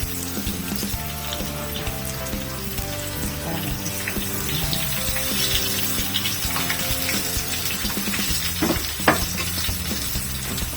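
Crispy eggplant omelette (tortang talong) frying in oil, with a continuous close sizzle and crackle and intermittent clatter of utensils, with no talk.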